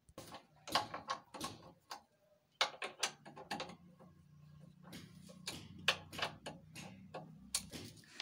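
Bolts are loosened with a wrench to take off a motorcycle front disc brake caliper, giving a run of close, sharp metallic ticks and clicks in irregular bursts with short pauses, and no talk.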